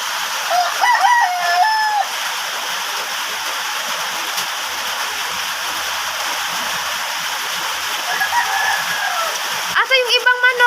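Chickens cluck and a rooster gives a crowing call over the steady hiss of all-day rain, with more clucking bursts near the end.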